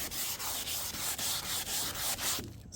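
A plastic headlight lens being wet sanded by hand with 600 grit sandpaper, in rapid, even back-and-forth rasping strokes, about ten close rubs before stopping.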